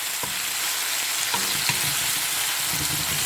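Tomatoes and garlic sizzle steadily in a hot pan, a dense continuous hiss broken by a few soft knocks of stirring.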